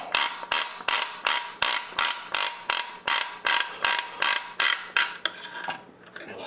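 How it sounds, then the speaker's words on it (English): Forend nut being unscrewed on a Benelli MR-1 rifle, a loud, close ratcheting click repeating in a steady rhythm about every half second, then a brief scrape as it stops. "first thing you need to do is unscrew this nut"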